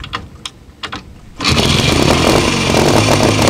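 A 1928 Scott Flying Squirrel two-stroke motorcycle is kick-started. A few clunks from the kick come first, then the engine catches and settles into a loud, steady, buzzing idle close by.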